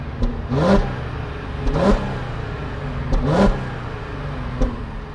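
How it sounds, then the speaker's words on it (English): An Audi A7 luxury car revs its exhaust in four separate bursts a second or so apart, each a quick rise and fall, with a steady idle hum between them. "I'll get an exhaust clip"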